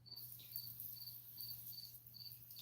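Crickets chirp in short, evenly spaced bursts, a thin high trill repeating every half second or so over a steady low hum, quiet and indoors-sounding.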